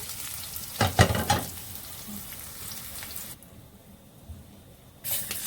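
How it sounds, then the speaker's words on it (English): Cumin and garlic frying in a pot for dal: a steady sizzling hiss, with a few close, louder bursts of stirring early on, then a quieter stretch before the frying noise swells again at the end. "garlic, and I'm going to let it fry and fry until it gets brown."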